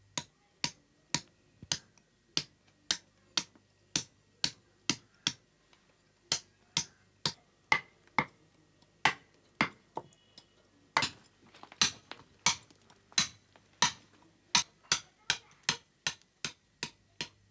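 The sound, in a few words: sharp chisel chipping outline into a stone block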